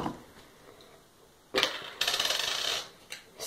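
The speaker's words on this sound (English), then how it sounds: "Put quarter right on here." A quarter set down on a bathroom sink, a sharp metallic clack followed by a brief rapid rattle as the coin settles, close and fairly quiet, with no voices.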